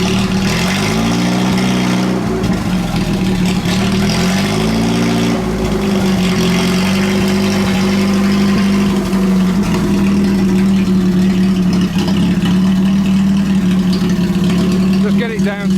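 Engine of a 1930s Citroen barn find running under its own power, a loud, close, steady mid-pitched drone with a couple of revving rises and falls early on, then holding a constant tone.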